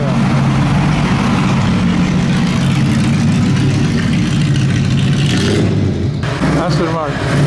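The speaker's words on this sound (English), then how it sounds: "It's a green Alfa Romeo." A green Alfa Romeo racing past during the 2017 Mille Miglia, its engine roaring steadily close by amid loud crowd and road noise, with people talking throughout.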